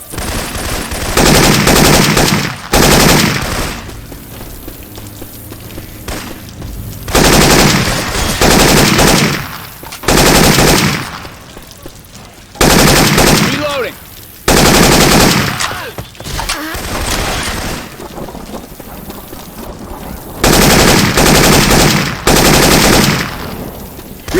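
Syphon Filter weapon sound effects in Left 4 Dead 2 ring out as loud bursts of rapid automatic gunfire, several sustained volleys separated by short quieter gaps across the stretch.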